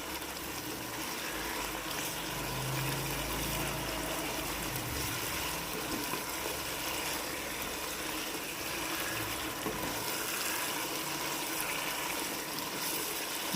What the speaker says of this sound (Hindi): तो 10 मिनट में इसको तेज़ आंच पर भूनता हूँ